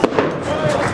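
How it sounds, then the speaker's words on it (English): Firecrackers and flares going off at a football stadium in Syria, a sharp bang at the start and another crackle shortly after, over a loud, continuous crowd roar. "There's like loads of firecrackers going off, flares going off."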